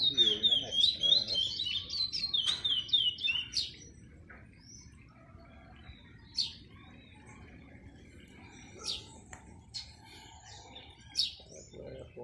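Curió songbird sings a rapid run of bright, warbling notes, loud and close for the first few seconds, then only brief scattered chirps over a quiet outdoor background with insects.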